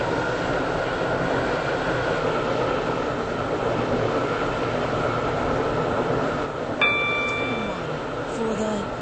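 A Class 730 train runs through a Roblox SCR railway game, its steady rumble and running noise continuing throughout, with a short tonal chime or electronic beep near the end.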